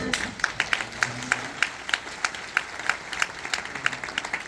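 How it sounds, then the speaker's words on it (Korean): A church assembly at a welcome worship service in a university church hall claps together, producing a brisk, fairly rhythmic patter of many hands with sharp accented beats, close and continuous. "박수를 합동 통합 골고루 보내주셔서"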